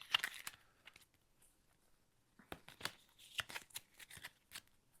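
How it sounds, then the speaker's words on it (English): A deck of cards being shuffled at a tabletop board game, heard as two bursts of quick riffling and snapping, close and fairly quiet, with a pause between them. "And just giving these a quick shuffle."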